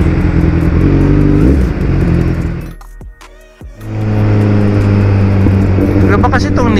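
A Kawasaki Ninja motorcycle engine, reflashed, runs loud and close with a steady droning tone, drops away briefly in the middle, then returns to a strong, even idle. Someone talks over it.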